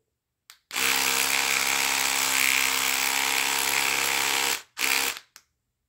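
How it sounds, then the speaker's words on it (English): An electric oscillating cleaning brush whirs loudly and steadily for about four seconds, its bristles moving back and forth, then cuts off and gives a brief second burst before stopping. "Just like a toothbrush, it doesn't actually go around in circles. It just kind of oscillates back and forth like that."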